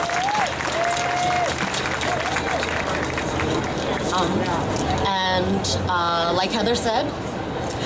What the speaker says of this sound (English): let's give some applause for everyone we're working with in Africa